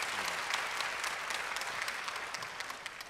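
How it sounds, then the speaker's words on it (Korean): An audience at a spiritual diary conference claps, a dense, steady applause made of many hands that fades slightly toward the end, with no speech over it. "박수 한번"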